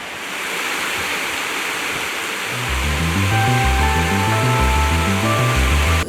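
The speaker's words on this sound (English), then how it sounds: "Get a shot of the waterfall?" Fremont Falls, a tall waterfall in Hanover, Indiana, giving a steady broadband rush of falling water, with heavier low rumbling and fluttering wind noise on the microphone joining partway through.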